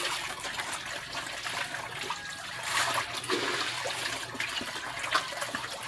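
Water drains from a catfish tank with a continuous rushing, trickling and splashing sound, fairly close and steady, with no voices.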